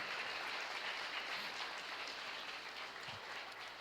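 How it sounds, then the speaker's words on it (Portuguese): Congregation applauding during a church service, a dense, even roar of clapping heard from some distance, steady throughout with no speech. "vamos aplaudir o Senhor"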